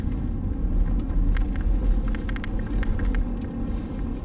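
A Ford Flex Limited AWD rounds a corner, heard from inside as a steady low road rumble and engine drone with faint higher ticks, continuous and moderately loud, with no talking.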